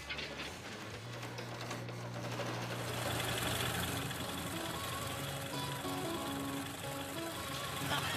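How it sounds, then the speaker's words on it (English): An old car engine being coaxed back to life in a restoration shop, a rough mechanical running and rattling drone that holds steady and grows slightly louder, close by. "The engine is finally showing signs of life."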